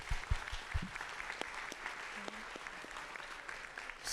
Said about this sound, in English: Folks, give yourself a round of applause